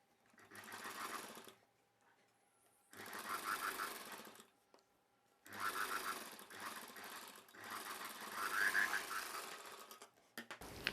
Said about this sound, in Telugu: ఈ లైనింగ్ పీస్ పై వైపునే ఒక కుట్టు వేసేసుకోవాలి